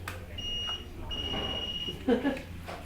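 A REM pod ghost-hunting device sounds inside a haunted museum in England: steady high electronic tones switching on and off over a low room hum. Faint voices and a brief thump come near the end.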